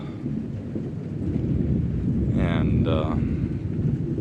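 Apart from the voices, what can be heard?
rain and thunder outdoors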